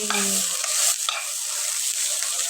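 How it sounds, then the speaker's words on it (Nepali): Corn frying in a pan gives a constant close sizzle, with a short tonal scrape and a couple of stirring clinks near the start. "मकै फ्राई गर्दैछु"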